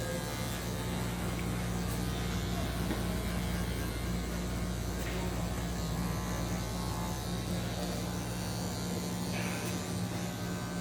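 An electric hair clipper cuts a fade at a barbershop, working with the tip of the blade at a short guard length. It gives a steady, close buzzing hum that runs unbroken, with no talking over it.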